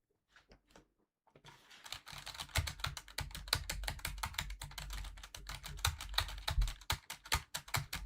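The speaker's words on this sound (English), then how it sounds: "I like sound of keyboard buttons being clicked." Computer keyboard keys clicked in rapid, irregular bursts, close and fairly loud, starting after a brief quiet moment and continuing steadily with no talking.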